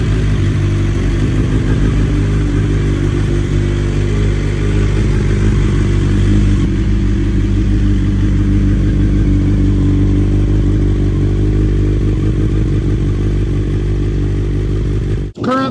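A BMW S1000 XR M Edition motorcycle with a Stage 2 tune and full Akrapovic race exhaust runs loud and close, a steady deep engine drone holding throughout with a brief clatter at the very end.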